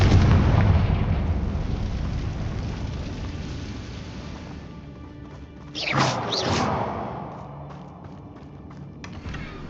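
In the video game Hogwarts Legacy, a Confringo blast spell goes off as a sharp crashing burst mid-clip, rising over a low rumbling game background and then decaying over a couple of seconds.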